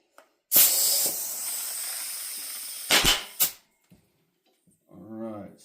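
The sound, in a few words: air hissing out of unseated BMX tubeless tire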